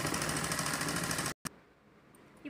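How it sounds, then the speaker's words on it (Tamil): A sewing machine stitches along the two sides of a fabric hand bag with a fast, even, close whir that cuts off abruptly partway through, leaving a quiet room with faint rustles. "ரஃப் அடித்து ரெண்டு சைடு மட்டும் தையல் போட்டுக்கோங்க"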